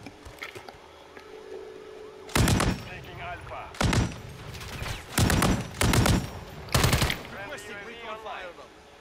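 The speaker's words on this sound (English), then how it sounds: "My own teammate shoots me" Automatic gunfire from a teammate in a video game shooter rips out in five loud, close bursts, separated by short quiet gaps and quieter background game noise.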